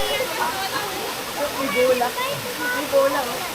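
A waterfall in Marinduque pours in a constant broad rush of falling water close by, with people talking over it throughout.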